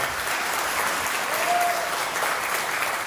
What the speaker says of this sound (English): One more time, ladies and gentlemen, a somber round of applause